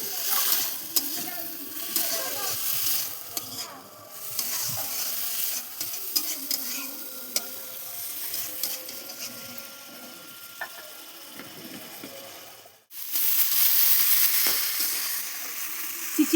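Snake gourd and chillies are stir-fried in a pan, giving a steady sizzle with repeated scraping and stirring strokes and occasional clicks. The frying briefly drops off, then returns louder near the end.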